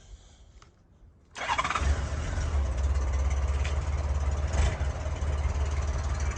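A 1997 Honda Goldwing motorcycle engine cranks and fires after a quiet moment, then settles into a steady, loud, close idle with a deep rumble that continues to the end.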